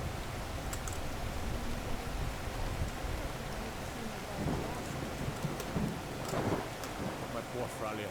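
Continuous rainfall hiss with low rumbling thunder rolling underneath, a steady Skyrim storm ambience with no talking.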